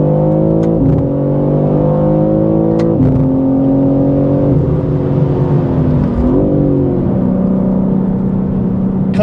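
A BMW M3 CS (G80) screams down a race track's back straight at full throttle, engine pitch rising through gears with sharp upshifts, then dipping and surging again into the corners, loud and close with no talk.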